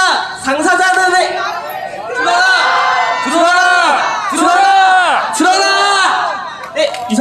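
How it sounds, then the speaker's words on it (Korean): A crowd at a climate justice march rally in Daejeon chants a protest slogan in unison, loud and near, repeated in rhythmic shouted phrases with strong collective voices rising and falling several times. "여러분들은 당사자들의 말을 들어라 라고 구호를 외쳐주시면 됩니다."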